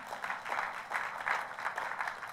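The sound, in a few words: congregation applause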